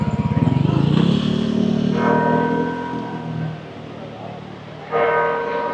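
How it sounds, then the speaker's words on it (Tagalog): Church bells ring out loudly nearby at noon at St. Joseph Cathedral in Hanoi, a resonant clang that sustains and fades, then strikes again, with tourist crowd chatter underneath. "Grabe yung tunog ng kampana."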